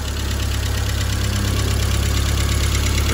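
A 1952 Fordson E83W engine idles steadily after repairs, its tappets now ticking less; a close, constant low rumble with a fast regular knock runs throughout and no one speaks.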